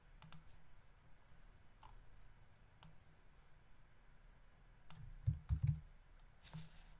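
Computer keyboard clicks while typing code, faint scattered keystrokes with a short quick burst near the end, close and quiet over low room hiss.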